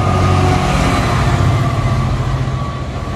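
A loud, steady low rumble of a heavy intermodal freight train passing close by at Syston, with continuous droning engine noise throughout.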